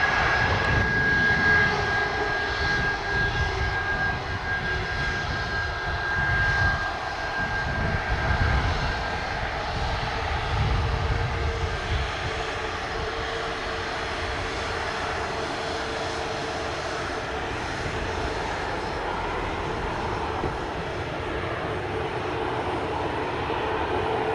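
A jet airliner taking off from runway 25 at Montego Bay, Jamaica, a loud sustained engine roar with a strong low rumble that holds steady and thins only slightly toward the end; no one speaks.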